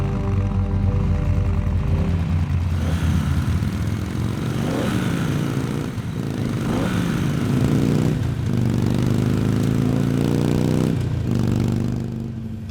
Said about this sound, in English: hop on the Fat Boy and get Rachel on the back